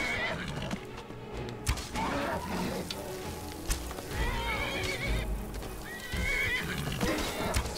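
A horse in the video game Skyrim neighs and whinnies over hoof clip-clops and busy game background noise, with loud repeated calls through the clip.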